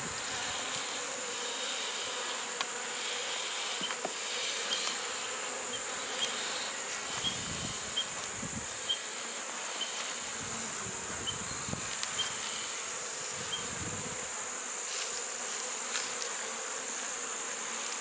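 Honeybees buzz steadily around an open hive whose colony has a diminished population, a continuous close insect drone with no talking.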